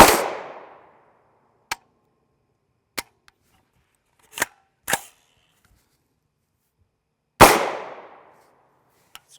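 Two loud, sharp unsuppressed shots from a 300 BLK rifle firing 220gr AAC Sabre Blade Black Tip rounds ring out several seconds apart, each trailing off in a brief echo, with small metallic clicks in between.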